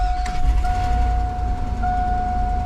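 Idling engine of a 2001 Chevrolet Suburban just after starting, a steady low rumble with a constant high electronic tone over it, no talking.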